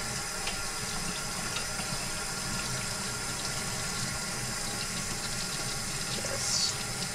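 Warm tap water runs in a steady, continuous stream over tomatoes being skinned for home-canned tomato sauce, a close, even rush with no talk.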